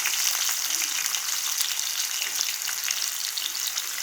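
Onions fry in hot oil with cumin and mustard seeds, giving a steady, close sizzle with faint scraping as they are stirred in the pan. No one speaks.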